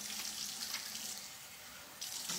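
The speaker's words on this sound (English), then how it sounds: "now I'm gonna rinse my face with water" Tap water runs steadily into a sink as a face is rinsed, a continuous close hiss that dips briefly midway and then surges back louder near the end, with no talking.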